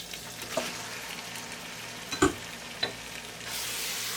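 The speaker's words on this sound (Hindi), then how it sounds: "चिकन को अच्छी तरह से फ्राई करेंगे।" Chicken frying with ginger garlic paste in a pot, a steady close sizzle with a few sharp utensil scrapes and clinks, no voices.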